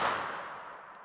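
A single .32 ACP pocket pistol shot fired at a target, a sharp loud crack with a short decaying tail, heard alone.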